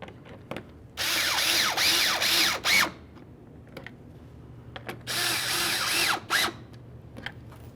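A power driver tightens license plate bracket mounting bolts into the plastic front bumper cover of a 2012-2018 Nissan Altima, in two sustained whirring bursts close up, with quieter clicks and handling noise between them.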